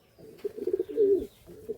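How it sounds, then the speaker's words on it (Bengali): A tippler pigeon coos close by in a few soft, throaty phrases with a brief pause between them, and nothing else competes with it. "এটা টিপলার পায়রা আছে অন্ধ্রপ্রদেশে।"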